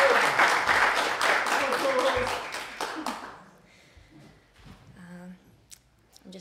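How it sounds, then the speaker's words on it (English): Audience applause for a poet at a spoken-word event, dense sustained clapping for about three seconds that then fades into quiet room noise with a few faint sounds. "Please give a round of applause for Riley Forrest."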